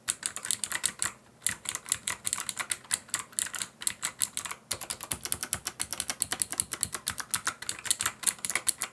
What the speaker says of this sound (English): it's kind of like a mix between a cherry blue and a cherry brown